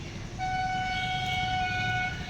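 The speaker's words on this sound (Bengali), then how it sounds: "ওই যে বাস আসছে বাস হর্ন দিতে দিতে আসছে" A bus approaching near a roadside market at dusk sounds a long, steady, loud horn blast that holds for about two seconds over road rumble.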